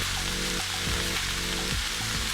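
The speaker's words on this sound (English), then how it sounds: "we are going to add some unsalted butter" Unsalted butter sizzles steadily in a pan with shrimp, a dense, even hiss of frying with faint stirring movements underneath.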